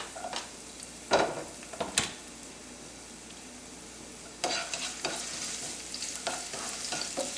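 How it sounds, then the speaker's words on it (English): Garlic sizzles in avocado oil in a warm pan, a steady soft frying hiss broken by a few louder stirring scrapes and clanks, with no talking. "We'll saute this for a little while."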